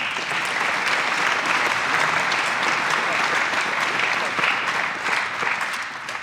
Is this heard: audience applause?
yes